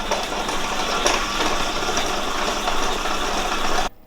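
An electric mixer beats butter and sugar for biscotti dough, a loud close steady whir with a rattling edge that runs without pause and cuts off abruptly near the end, no voices.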